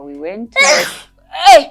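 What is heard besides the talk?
child sneezing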